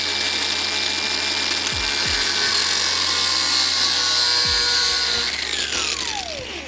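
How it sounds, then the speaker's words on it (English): A rotary cutting tool grinds a flathead slot into a bolt head during a wrecked Yamaha V-Star motorcycle rebuild. The steady, loud, high-pitched whine runs continuously for several seconds, then winds down near the end. "we're just going to cut a flathead into this."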